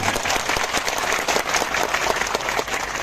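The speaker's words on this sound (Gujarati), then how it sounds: "એવા બંને બહેનો માટે પણ તમે જોરદાર તાળીઓ પાડો" A large crowd at a Gujarat political rally claps loudly and continuously, a thick, even roar of many hands filling the whole stretch with no pause.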